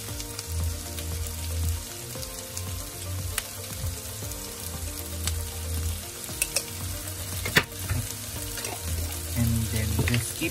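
Fried pork belly sautéed with red chili and salt, a loud continuous sizzle under a string of close scraping and clattering spatula strokes, and nobody speaks.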